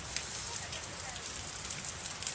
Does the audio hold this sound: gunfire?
no